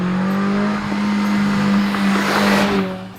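An Invidia N1 aftermarket exhaust on a Japanese tuner car gives a deep, steady growl, loud and close, holding an even drone that swells slightly before easing off near the end.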